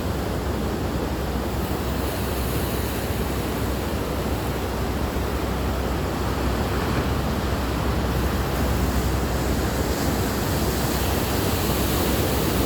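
Steady ocean surf roars continuously with no gaps, a dense broadband wash of breaking water heard up close and fairly loud, with some wind buffeting.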